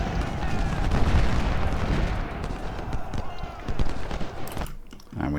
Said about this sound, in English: There's lots of cannons around here.